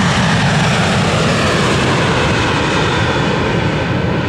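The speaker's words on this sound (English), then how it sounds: "American Airlines 1260 inbound from Dallas," An American Airlines airliner inbound from Dallas lands in 42-degree rain and fog, its engines giving a steady, loud broadband roar that holds evenly throughout with no voices over it.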